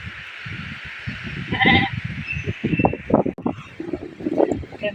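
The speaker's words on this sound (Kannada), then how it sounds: "ಇಲ್ಲೇ ಕುರಿಗಳು ಬಂದಾವು" Sheep bleat close by in a village lane, a few wavering cries amid rustling, shuffling movement and intermittent background noise, with no talk over them.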